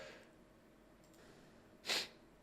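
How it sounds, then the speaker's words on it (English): A single sharp sneeze bursts out near the microphone, short and breathy, following a quiet stretch with faint breathing. "Sorry, I had to sneeze there."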